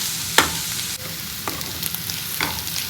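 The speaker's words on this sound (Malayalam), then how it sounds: "എന്നിട്ട് നന്നായിട്ട് വഴറ്റാം. എന്നിട്ട് ഒന്നുകൂടി ഫ്രൈ ആവട്ടെ." Bitter gourd and green chillies stir-frying in a pan, a soft continuous sizzle broken by a few sharp scrapes and clacks of the spatula, close and moderately quiet with no talking.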